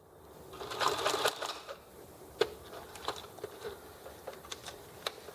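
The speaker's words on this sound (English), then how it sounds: "tack this patch in place with just a straight stitch across the back" A sewing machine straight-stitching a reinforcing patch onto a trouser waistband, with a quick burst of rapid needle chatter followed by scattered clicks and taps, close but fairly quiet, with no talking.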